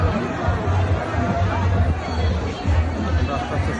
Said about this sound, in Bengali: মানুষের ভিড়